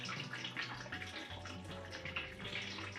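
Liquid from a one-gallon Belgian Tripel home brew pours steadily through a grain bed in a kitchen, a continuous close splashing trickle with no pauses.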